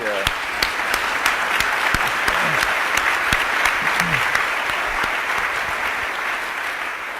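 A polite audience at a policy forum with the World Bank president claps steadily, a broad wash of hand claps that continues throughout, with a voice speaking over it.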